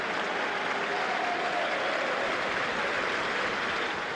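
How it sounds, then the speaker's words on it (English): Celtic football fans applauding in the stadium during a Scottish league match at Kilmarnock, a dense, continuous roar of clapping and crowd noise that stays loud and unbroken across the whole stretch. "the Celtic fans are applauding now with 18 minutes gone"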